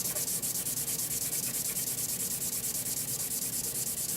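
A Cold Steel Large Lawman knife being sanded flat, a close, steady rasping rub with quick, evenly repeated strokes that continue without pause.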